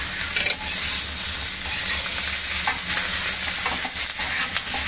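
Chicken frying with green chillies and curry leaves in a hot pan, stirred steadily, makes a loud continuous sizzle with repeated scraping strokes close by; no one speaks.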